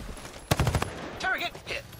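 Rapid burst of automatic gunfire in an online video game, a fast volley of about five sharp shots, followed by a voice calling out in the game.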